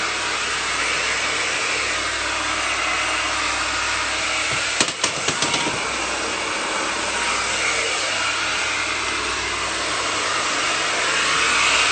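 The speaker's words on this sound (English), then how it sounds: "So, there's the diffuser." A hair dryer with a diffuser attachment blows continuously at close range, a loud steady whooshing roar broken by a brief clatter of handling partway through.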